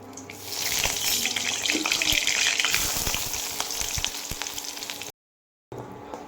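Onions dropped into hot oil with black pepper, small cinnamon sticks and bay leaves for a chicken tandoori masala curry, bursting into a loud, hissing sizzle close by that stays strong, then cuts out briefly near the end.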